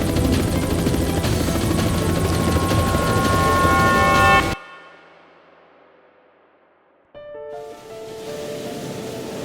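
Helicopters searching over a bay, a loud steady rotor drone that cuts off abruptly and then returns after a few seconds of near silence, with no talking.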